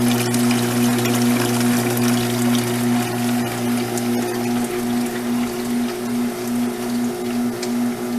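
Water pouring and gurgling steadily over a constant mechanical hum, rinse water draining out of a Gel Matic machine during cleaning at close range.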